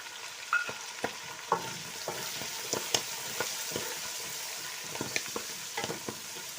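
Green peas and whole garam masala sizzle and fry in a pot for vegetable biryani, a soft steady crackle broken by repeated sharp clinks and scrapes of stirring, close and fairly quiet, with no voices.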